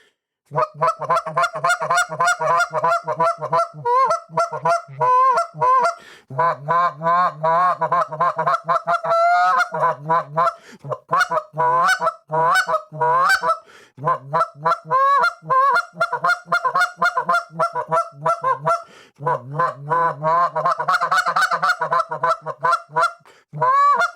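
A goose call imitates feeding geese, mixing rapid honks and clucks with low growling sounds in a dense, continuous, close-up sequence with brief pauses.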